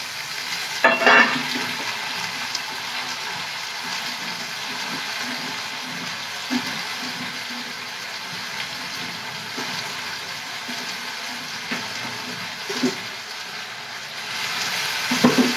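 Tomatoes fry in a pan with a steady, moderately loud sizzle that holds throughout, broken by occasional scrapes and clatters as the pan is stirred; no one speaks.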